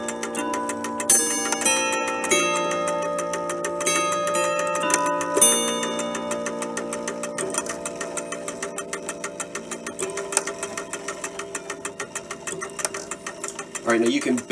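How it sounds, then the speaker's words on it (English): A clock with a bent striking hammer strikes the hour, producing muted, dull ringing tones that fade into a steady close ticking, with faint mechanical whirring underneath. "You can barely hear the hour strike."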